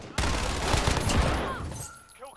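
Call of Duty Modern Warfare gunfight in Kill Confirmed mode on the Docks map: a sharp onset, then a sustained rattle of automatic fire for about a second and a half that tapers off.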